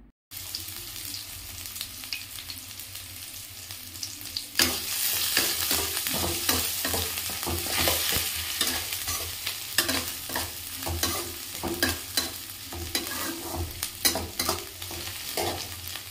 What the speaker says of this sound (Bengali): কুচি করে রাখা পেঁয়াজগুলো, ওইগুলো আমি দিয়ে ভালো করে ওগুলোকেও ভেজে নেব।